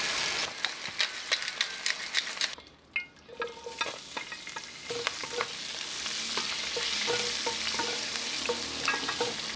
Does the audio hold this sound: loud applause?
no